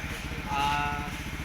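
A Kawasaki Bajaj CT125 motorcycle idles up close, with a steady low, rapid engine thrum that holds an even loudness throughout.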